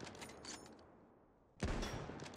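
Rapid gunfire in the game RimWorld: a loud burst of shots, a short quieter gap, then another loud burst that starts abruptly.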